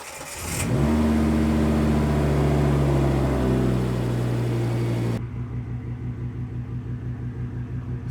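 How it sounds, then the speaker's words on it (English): A Volvo V70R with a cylinder 4 misfire cranks and catches, revs up loudly for several seconds, then drops to a rough, uneven idle with a pulsing, stumbling beat close by. "now we're gonna start the car and see what happens"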